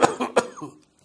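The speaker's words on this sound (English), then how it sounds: "This is classical cough that originates from the medium-sized airways, as in asthma." A person demonstrates an asthma-type cough from the medium-sized airways: two or three strong, close coughs in quick succession that trail off into quiet.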